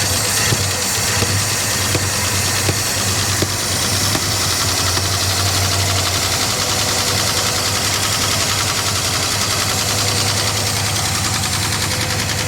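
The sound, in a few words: 1967 Lincoln Continental engine idling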